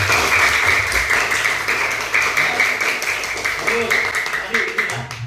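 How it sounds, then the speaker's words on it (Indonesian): Schoolchildren in a classroom applaud together during a lesson on food chains, a loud, dense burst of clapping that continues throughout, with some voices mixed in. "lalu tepuk tangan dulu"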